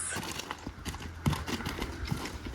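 Horse hooves clip-clopping steadily on the ground, a continuous close rhythmic plodding with faint background noise and no talking.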